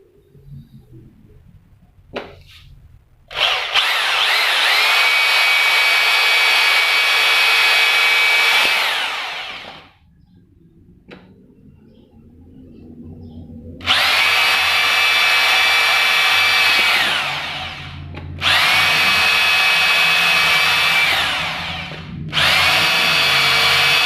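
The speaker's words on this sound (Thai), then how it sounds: "เดี๋ยวมาเจาะไม้ดู" A Makita rotary hammer drill fitted with a chuck adapter bores into wood in several loud, sustained bursts of whining motor, separated by quiet pauses and a few small clicks.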